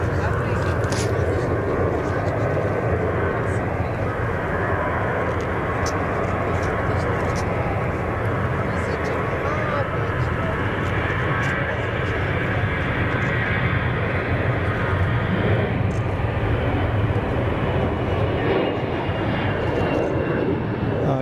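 A Condor airliner spools up for takeoff on runway 28 at Zurich Kloten Airport, a sustained distant jet roar and hiss that holds steady throughout while someone talks nearby.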